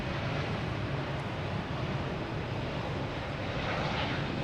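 An American Airlines airliner in special livery at Boston Logan Airport, its broadband jet engine roar steady and fairly loud throughout, with wind buffeting the microphone.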